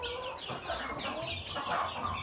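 Small chickens on a flooded farm cluck and chirp in quick, overlapping bursts at a fairly low level, several birds calling nearby in an uneven chatter.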